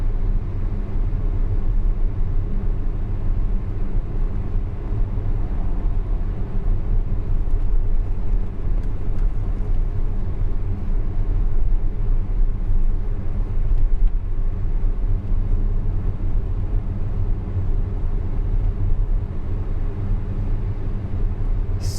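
A Tesla Model X with a newly replaced air suspension compressor rolls along Key Deer Boulevard, heard as an even, continuous low road rumble and cabin hum, steady and unbroken with no talking.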